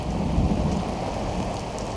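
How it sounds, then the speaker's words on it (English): Heavy rain pours down over a Tartan 37 sailboat on the Potomac River, a dense steady hiss with a deep low rumble of thunder underneath and no voices. "Well, the rain finally hit. We had some decent gusts."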